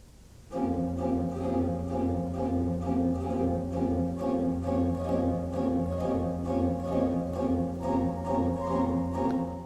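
Pipe organ in a cathedral playing a rapid, trembling repeated-note figure in sustained chords, loud and steady with no voices.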